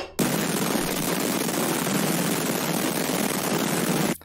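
A distorted, scooped synth bass is played very low for an electronic track, giving a loud, harsh burst of noisy, crackling distortion that starts and stops abruptly and holds steady for about four seconds with no speech.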